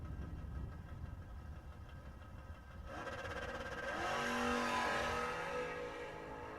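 At a drag strip, a Camaro and a small wagon race, with a distant rumble of engines building to a louder, rising roar as cars accelerate, peaking and then holding as a steady engine drone.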